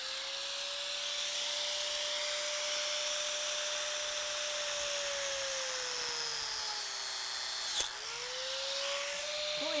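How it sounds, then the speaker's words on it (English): An angle grinder cuts through driveway marker rods, a loud sustained high whine with a steady pitch that sags under load, a brief pause and clunk near the end before spinning back up, no talking. "And then I just take this grinder, if I can one-hand it here."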